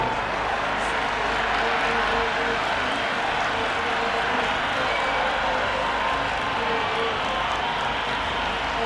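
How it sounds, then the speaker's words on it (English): Constant roar of a large cricket stadium crowd at a T20 World Cup match, a broad noisy wash of cheering and chatter that holds steady throughout without distinct peaks. "The crowd are really getting quite raucous."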